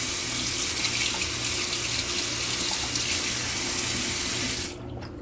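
A dirty makeup brush held under a running tap, a strong steady rush of water into a sink close by, dropping away abruptly near the end.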